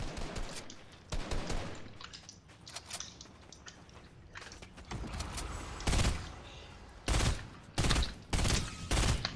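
Gunfire in the Fortnite video game, a series of sharp shots and short bursts, some isolated and some in quick clusters, varying in loudness.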